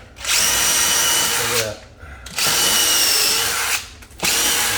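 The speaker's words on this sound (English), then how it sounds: "So I'm gonna use a drill bit to start the hole." A power drill bores a pilot hole in a wooden frame being installed to close off a doorway, in two loud, close, sustained whirring bursts with a short pause between them, while a voice speaks briefly.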